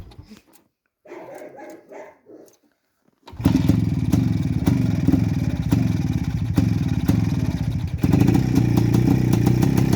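A German motorcycle engine started in freezing frost, primed with a petrol syringe, bursts to life after a few seconds of near-quiet with faint voices, then runs loud and close with a rapid, steady beat that swells slightly toward the end.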